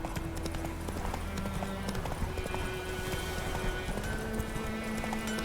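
Roach, a horse in The Witcher 3, gallops along in a quick, steady clip-clop of hooves, mid-distance and fairly quiet beneath an ambient game backdrop.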